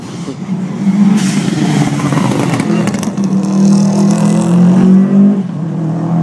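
Tarmac rally cars in the Targa West event, including a Subaru Impreza WRX and a Triumph TR7, roar past one after another with loud, sustained engine noise that swells and fades.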